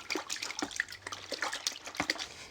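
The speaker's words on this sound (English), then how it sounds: "Now into some clean water for a finer rinse." Paint roller or brush being rinsed in a bucket of clean water after painting, with irregular close sloshes, drips and small splashes stopping and starting across a few seconds, no talking.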